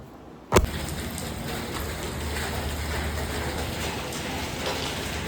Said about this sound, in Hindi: इतना बारिश है।